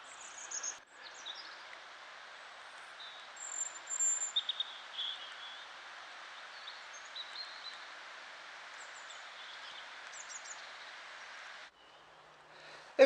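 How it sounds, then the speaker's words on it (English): Steady broadband rush of a flowing river fills the outdoor quiet, with scattered faint birdsong chirps and calls drifting over it; the water noise drops away briefly near the end. "where all you can hear is bird song and flowing river"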